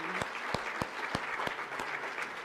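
An audience at a morning event claps in a short burst of applause, with distinct rhythmic claps standing out from a steady roomful of clapping.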